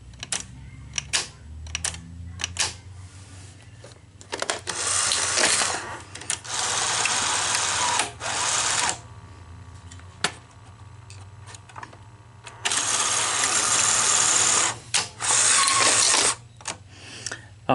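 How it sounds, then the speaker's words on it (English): Solenoid inside a Sony SL-HF300 Betamax deck on the repair bench clacking up and down, sharp mechanical ticks and clicks in irregular bursts, separated by loud whirring runs of the mechanism, close and without talk. "This is going to move the solenoid up and down."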